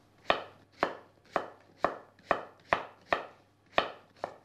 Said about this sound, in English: slice the courgette down the middle, turn it over, cut it into quarters, and chop through, don't go mad